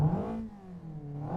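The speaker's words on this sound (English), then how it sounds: "I put like a 4-cylinder sound on it." A 4-cylinder car engine sound in the Assetto Corsa racing game, swapped onto a front-wheel-drive car, revs steadily with a buzzing mid-pitched drone and subtle pitch shifts, close and continuous with no talk.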